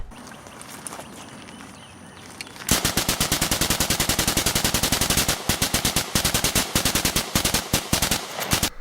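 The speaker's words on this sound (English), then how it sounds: "It's a Gatling gun crank machine." A hand-cranked Gatling gun fires a long, rapid, steady burst of loud, close shots, a dense rhythmic stream that starts abruptly after a quiet lead-in and runs for about six seconds with a few brief stutters.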